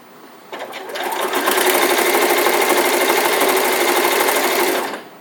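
Sewing machine running steadily while stitching a quarter-inch seam on green fabric for an elf hat, a close, continuous motor whir that starts, holds for about four seconds and stops.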